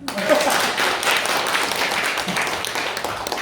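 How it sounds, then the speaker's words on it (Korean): Audience applause at a multi-level marketing seminar, a dense, steady patter of many hands clapping that fills the whole stretch at moderate loudness, with a few voices mixed in. "박수 한번 주세요."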